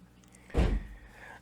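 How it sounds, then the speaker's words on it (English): A door pushed shut indoors, one short dull thunk with a brief rattle, close and fairly loud against a quiet room. "Can you close that door real quick?"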